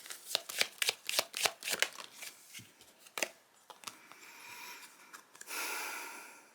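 Tarot cards are shuffled by hand in a rapid run of crisp riffling flicks, close and distinct, then a pause with breathing before a softer, longer shuffle at the end.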